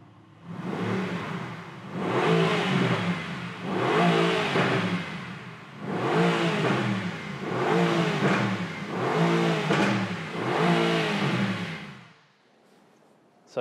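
A 2019 Mercedes-AMG GT-R Pro engine revs loudly six times in a steady rhythm, each blip rising and falling, close by with no talk, before the sound drops away at the end.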